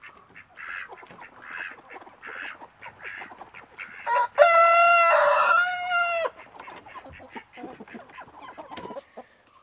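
Chickens being let out of their coop on a small pasture farm, clucking in repeated bursts close by, then a loud rooster crow rings out over the middle of the clip before the clucking resumes more quietly.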